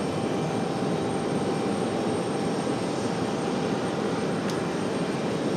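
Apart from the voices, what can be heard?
departing jet airliner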